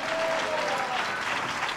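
A congregation claps steadily and continuously during a Sunday church service, a dense, even wash of many hands with a faint voice tone running underneath.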